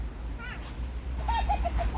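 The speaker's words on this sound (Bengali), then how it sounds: "এই যে অনেক মুরগি" Chickens on a farm give a short run of clucks near the end, rising over a steady low background rumble with no talk.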